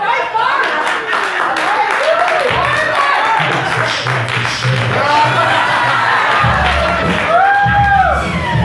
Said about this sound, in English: we just gotta give him a round of applause